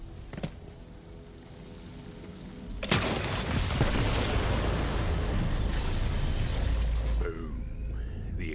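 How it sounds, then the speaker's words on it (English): Set bombs go off in Borderlands 3, a sudden loud blast erupting from quiet and rolling into a long, dense roar of debris and rumble that echoes through a forest before tapering slightly. "The explosion echoed through the forest"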